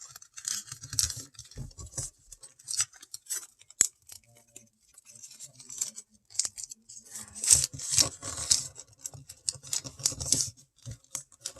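Paper being folded and creased for a craft piece, with a string of crisp rustles, taps and sharp crinkles in irregular bursts, close and fairly quiet, with brief pauses between handlings.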